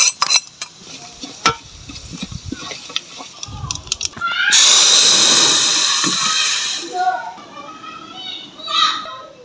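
Cumin seeds hit hot oil while tempering dal, bursting into a loud, steady sizzle that fades over a few seconds, after earlier clinks and children's voices chattering in the background.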